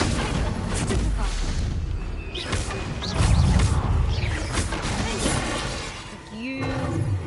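A Stupefy spell is cast during combat in the video game Hogwarts Legacy, with loud booming, crashing magical impacts and roaring effects that fill the whole stretch, joined by a voice.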